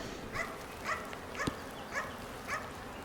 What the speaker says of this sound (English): My dog's barking, but I don't see nobody.